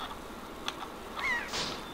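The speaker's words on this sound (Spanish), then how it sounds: "Oigo un pájaro indeseable." A short, high, slightly warbling bird call in The Legend of Zelda: The Wind Waker, heard once near the end over a soft steady background hum, faint and moderately distant.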